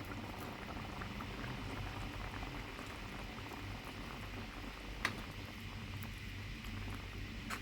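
Paneer curry boils in a pot with a soft, steady bubbling and gurgling and one brief clink partway through. The sound is faint and continuous, with no talking.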